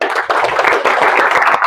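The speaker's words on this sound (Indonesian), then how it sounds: "Berikan tepuk tangan yang meriah kepada kelompok" Applause from a classroom audience for a student group after its presentation of a financial report, a dense run of clapping that stays steady and fairly loud without pause.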